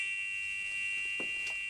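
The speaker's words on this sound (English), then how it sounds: "a buzzer went off, telling him that someone was entering the church" An entry buzzer in a church sounds a continuous, steady electronic tone at moderate level, with faint background noise and no talking.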